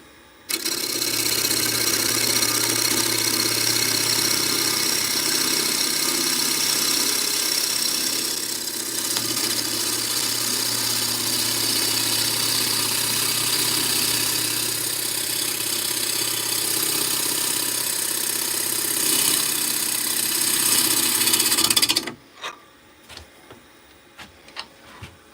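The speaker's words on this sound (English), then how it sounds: "I might as well just throw it on the lathe and start spinning it" A wood lathe spins a cracked log with a steady, loud motor hum and whir for about twenty seconds, then cuts off abruptly, leaving a few scattered knocks and taps.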